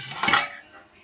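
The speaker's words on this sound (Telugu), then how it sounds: "గిన్నెతో ఇట్లా పైకి కిందికి అనుకోవాలి." A pot of fish curry is shaken up and down to mix it. It gives one short, loud metallic rattle and slosh that fades away quickly.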